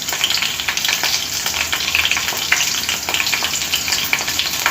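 Two green chillies frying in hot oil in a pan for an aloo methi curry, giving a close, steady crackling sizzle with fine spattering pops throughout and no talking.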